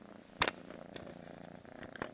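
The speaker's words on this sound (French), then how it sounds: "Ça y est, elle s'est calmée, elle ronronne." A cat purring softly and close by, a steady low rumble that carries on throughout the clip, with a brief louder rustle near the start.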